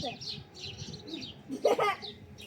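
Small birds chirping in short repeated bursts at moderate distance in a park, with a person speaking briefly over them.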